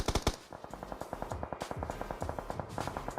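Rapid bursts of gunfire in a video game shootout, a sharp opening volley followed by a steady rattling stream of automatic shots, loud and close throughout.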